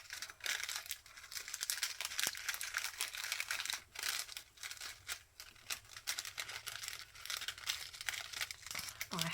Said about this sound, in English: sorry about the rustling, but it's the only way I can sort of get the sequins out.